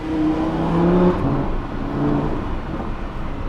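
A Lamborghini Huracan V10 engine revs loud and close, a steady throaty drone with rising and falling harmonic tones lasting throughout, no voices over it.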